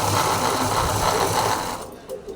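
A sewing machine runs in a steady close whirring burst while stitching the lining of a blouse, then slows and stops near the end.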